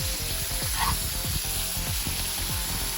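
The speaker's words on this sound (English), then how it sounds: "The key is for us to continually smash that burger down, and as those onions cook and soften up, we smash again" Smash burger patties and onions sizzling loudly and steadily on a hot cast iron skillet, with a continuous frying hiss and repeated low scraping thumps from the smashing spatula.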